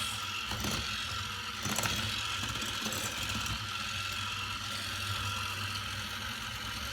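An electric mixer whirs through blueberry lemon muffin batter, a steady close mechanical motor drone with a brief rattling swell near the start.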